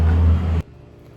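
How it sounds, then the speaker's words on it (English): A fast car with a loud engine roars close by, a heavy low rumble that cuts off abruptly, leaving quiet. "a really fast car just passed by with a loud engine"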